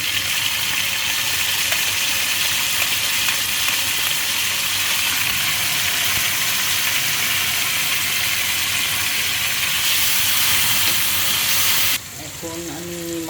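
Chopped tomatoes and torn bay leaves hit hot oil in a pan with fenugreek seeds, a loud steady sizzle and hiss that fills the clip and drops sharply near the end.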